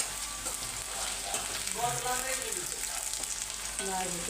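Onion fries in a pan, a steady hissing sizzle with light stirring, close and moderately quiet, with a brief faint voice partway through.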